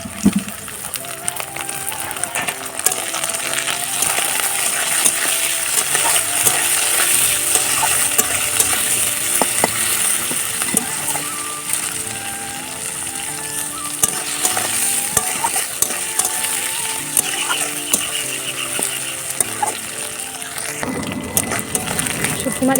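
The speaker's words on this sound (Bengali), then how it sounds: "শুটকি মাছ ভাজা হয়ে গেছে" Dried fish frying with onion in a pan over a wood-fired stove, a continuous sizzle broken by frequent scraping stirs of a spoon against the pan.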